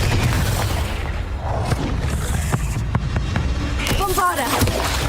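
A Confringo spell is cast in Hogwarts Legacy and explodes, with a low booming blast and scattered thuds amid a dense game soundscape, fairly loud.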